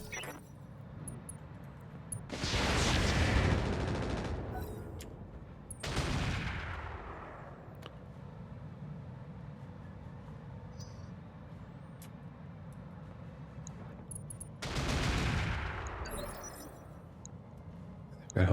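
Rotary cannons fire in the BattleTech video game as three long, loud bursts of rapid roaring gunfire, each fading into a rumbling tail over a constant low game background.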